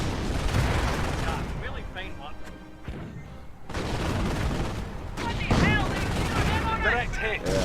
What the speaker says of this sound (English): My mortar counter striking it.